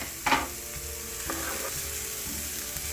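Garlic sautéing in a pan for a holiday supper dish, with a steady low sizzle throughout and a couple of brief stirring scrapes near the start, close and moderately quiet with no talking.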